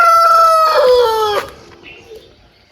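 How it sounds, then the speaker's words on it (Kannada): A single rooster crows loud and close at dawn on a village farm, its long call rising and then trailing off, with quieter farmyard sounds and a faint cluck afterward. "ನಮ್ಮ ಕೋಳಿ ಇವಾಗ ಕೂಗ್ತಿದ್ದೆ, ಇವಾಗ ಮುಂಜಾನೆ ಆಗಿದೆ ಇದಕ್ಕೆ"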